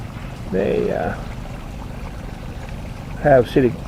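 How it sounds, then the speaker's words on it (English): Water runs along the creek bed inside City Creek, an indoor mall in Salt Lake City, as a low, steady wash. Brief voices rise over it near the start and again near the end. "have water in the creek in the mall all the time"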